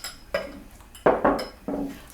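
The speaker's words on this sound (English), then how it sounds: "no hitting the side of the bowl. That makes too much racket." Several light clinks of a spoon striking the side of a mixing bowl while mixing a chicken broccoli casserole with mayonnaise in a home kitchen, coming in irregular bursts of close, bright taps.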